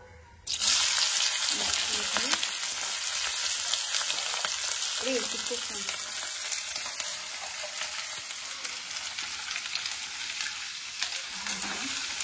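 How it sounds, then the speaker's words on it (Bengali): Dried red chillies crackle and sizzle in hot oil in a home kitchen, a steady, close frying hiss with light popping that starts abruptly and runs throughout. "তেলটা গরম হয়ে গেছে, শুকনো লঙ্কাগুলো চিটবিট করছে"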